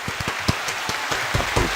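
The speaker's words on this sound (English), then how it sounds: "let's give Jason a round of applause" A podcast audience applauds, a short burst of scattered claps over a steady hiss, with a few louder slaps standing out near the middle and end.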